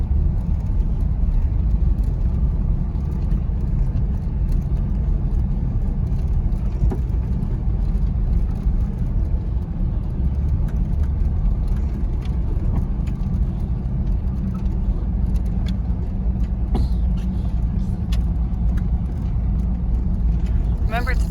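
A Jeep engine drives through winter snow on a trail, a loud steady rumbling drone with road and cabin noise throughout, and people talk over it.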